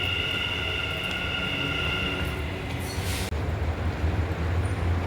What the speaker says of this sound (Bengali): এখন আবার উঠবো ট্রেনে